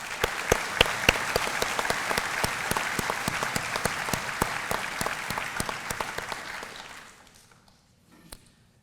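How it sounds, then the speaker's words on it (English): A police academy graduation ceremony crowd gives a sustained round of applause, dense and steady clapping with scattered louder claps, then fading away into near quiet at the end. "Please join me in a round of applause."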